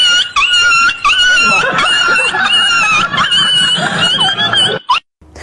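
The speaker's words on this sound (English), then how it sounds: "a funny video of a cat and dog fighting for the award of Best Actor of the Year" A cat and dog scuffle loudly, with whining, yelping and snarling cries tumbling over one another in a continuous squabble that cuts off abruptly near the end.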